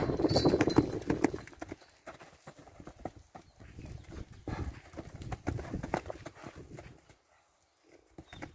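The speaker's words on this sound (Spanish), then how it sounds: "Oh, lindo caballo, ¿eh?" Hooves of a well-built, very tame overo gateado horse clip-clop in a paddock, an uneven run of close, distinct knocks that stops near the end.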